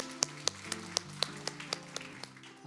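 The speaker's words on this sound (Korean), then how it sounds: "우리 하나님께 감사의 박수를 드리겠습니다" Congregation clapping in thanks to God during a Sunday church service, a scattered run of about ten sharp, spaced claps with a faint sustained tone beneath, fairly close and without talk.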